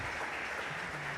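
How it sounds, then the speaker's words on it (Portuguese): A church congregation claps together in dense, steady applause that stays loud and even throughout, with no voices over it. "Palmas para vocês."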